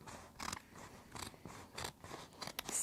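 Scissors cut through paper to free a botanical design, giving close, quiet snips in a steady rhythm of about six crisp cuts, with no talking.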